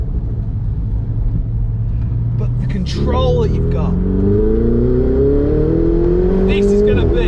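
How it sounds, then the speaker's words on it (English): A Ferrari 488 Spider engine drones at low revs, then climbs into a rising roar as the car accelerates while driving, loud and close, with someone talking over it. "And that roar, just that roar. Oh my God, the sound of it just goes through you."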